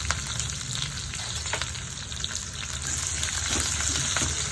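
Curry leaves and chopped shallots sizzle steadily in hot oil for a street-style thattu dosa, a loud, continuous close frying hiss with faint stirring scrapes.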